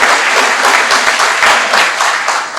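A crowd applauds loudly and steadily, dense clapping filling the whole moment without pause.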